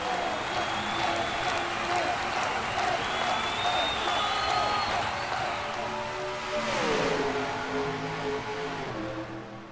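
Race cars starting a race at Las Vegas in a racing video game, a dense engine roar that builds steadily and then sweeps past with a falling pitch, with a commentator talking over it.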